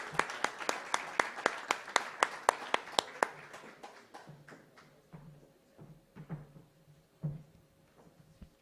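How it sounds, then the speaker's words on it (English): A small audience claps at the launch of an African research chair on campus and school public safety, a run of crisp, evenly spaced claps that thins into scattered softer taps and knocks. "Please, let's give you a very big round of applause."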